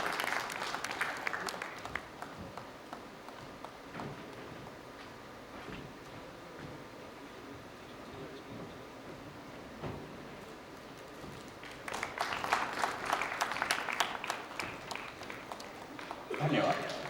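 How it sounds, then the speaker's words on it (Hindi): Audience applause for a guest at a film-direction conversation event, brief clapping at the start, then a quieter stretch with a voice talking, and a fuller burst of clapping returning near the end. "जोरदार तालियां होनी चाहिए उनके लिए"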